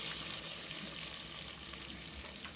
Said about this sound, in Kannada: ಈರುಳ್ಳಿ ಎಲ್ಲ ಚೆನ್ನಾಗಿ ಫ್ರೈ ಮಾಡಿಕೊಂಡು